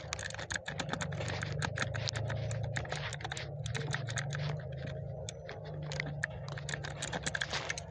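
Rapid, steady typing on a newly unboxed, inexpensive computer keyboard, dense clattering keystrokes close up and fairly loud throughout with a brief lull midway, no voices.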